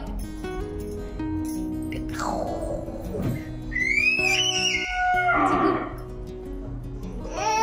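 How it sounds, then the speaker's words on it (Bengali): A cow moos loudly several times nearby, its calls rising and falling, with whistling and a few other faint background sounds. "গরু ডাকছে।"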